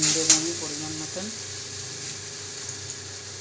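Mashed potatoes mixed with neem leaves fry in oil in a pan, giving a steady soft sizzle and hiss throughout, with a brief faint voice-like sound near the start.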